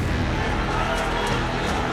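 Loud, dense crowd noise fills a street outside a mosque during unrest, a continuous roar of many voices without pause.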